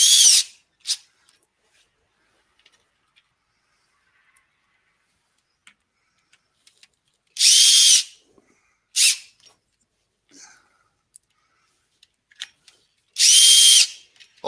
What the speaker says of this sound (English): I screw in towards the centre and that's right on the extreme edge